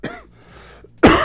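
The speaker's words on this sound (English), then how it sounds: "Blasted cough" A single harsh cough bursts out loudly near the end, after a quieter stretch of breathy throat noise.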